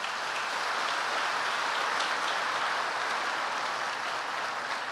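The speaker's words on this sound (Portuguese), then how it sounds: "Dê um aplauso ao Senhor." A church congregation claps together in sustained, dense applause, a steady wash of many hands heard from within the room without speech.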